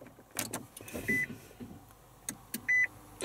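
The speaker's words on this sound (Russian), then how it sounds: "Идем в автомобиль и заводим его." Inside a Nissan Leaf electric car being started, with several short electronic beeps and chimes over quiet cabin sounds and faint clicks and shuffles, no engine noise.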